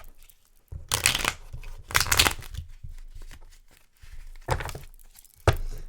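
A deck of cards is shuffled in four rough bursts of riffling and slapping, with short quiet gaps between them.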